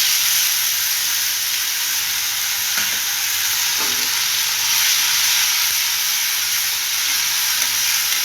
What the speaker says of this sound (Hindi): देखो से अदरक और लसुन रो पेस्ट इतने पकई देली